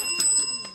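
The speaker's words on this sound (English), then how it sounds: "It's a fucking bell." A bell rung a few times in quick succession, bright metallic rings close by, with voices in the background during a lively group game show.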